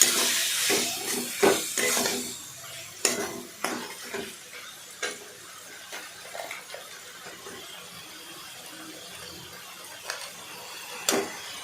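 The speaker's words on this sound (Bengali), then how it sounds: "তারপর সেটাকে ভালো করে নাড়াচাড়া করলাম।" Utensil clinks and scrapes against a pan while egg and bean curry is stirred, with intermittent close metallic taps and a soft background hiss; no talking.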